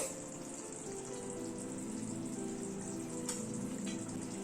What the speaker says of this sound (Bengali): পটলটা একটু ঝোলের সাথে একটুখানি সেদ্ধ হোক, যাতে মশলাটা পটলের মধ্যে ভালো মতো ঢোকে।